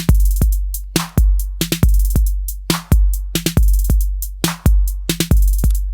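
Software version of a Roland TR-808 drum machine running in a browser plays chained patterns: booming kicks, crisp snares and claps and ticking hi-hats in a tight, repeating loop, loud and dry with no voices.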